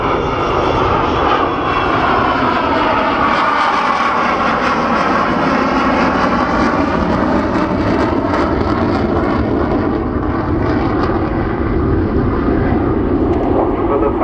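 At Farnborough Airshow an aircraft makes a slow fly past with its undercarriage coming up, a loud continuous engine drone that shifts gently in pitch as it passes, with a voice talking over it now and then.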